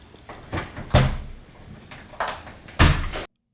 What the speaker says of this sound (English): The lock on the door.